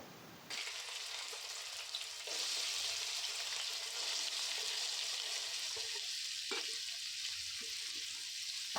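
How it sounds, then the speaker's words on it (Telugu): Onions and green chillies drop into hot oil in a deep pan for a Telugu fish curry, bursting into a sudden loud sizzle that holds steady, with occasional soft stirring clicks. "ఒక బాండీలో ఆయిల్ వేసుకొని ఈ ఆయిల్ బాగా కాగిన తర్వాత అప్పుడు మనం ఉల్లిపాయలు పచ్చిమిర్చి వేసి వేయించుకోవాలి"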